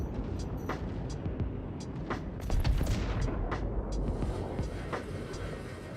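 Deadbolt ship cannons firing in Star Citizen during PVP combat: a fast series of sharp, punchy shots spaced through the stretch, with a louder cluster in the middle over steady engine rumble, no talk.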